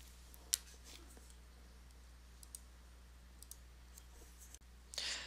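A few faint, sparse computer mouse clicks over a quiet background hum, spaced irregularly.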